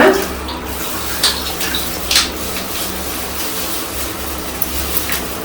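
Liquid dye pours and sloshes into water in a steady wash, with a few brief splashes and no talking.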